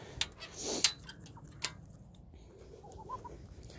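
Chickens cluck and squawk in short, scattered bursts close by, with a few sharp higher calls over a quiet background.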